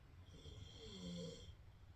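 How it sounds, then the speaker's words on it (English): A sleeping nephew snores softly nearby, one long, low, rumbling breath rising and fading over about two seconds against a quiet room. "You guys can probably hear my poor nephew over here snoring."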